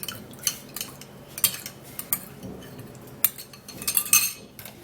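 A metal spoon clinks and scrapes against a small dish while stirring half a teaspoon of oil into a homemade face oil blend, sharp irregular taps standing out close over a soft scraping bed, with no talking.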